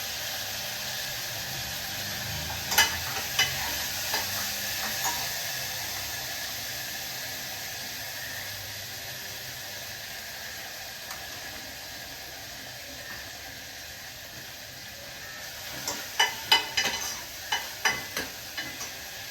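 Tomato and green chili fry in a pan with a steady, moderate sizzle and hiss. Short scraping clatters from stirring come early on and again in a quick cluster near the end. No one speaks.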